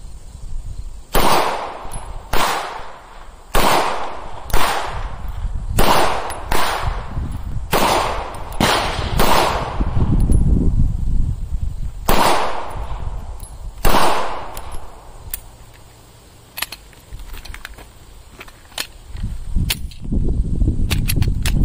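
Pistol shots from a Canik Rival fired at a range, roughly a dozen sharp loud cracks in uneven bursts over twenty seconds, spaced about a second apart with brief pauses between strings.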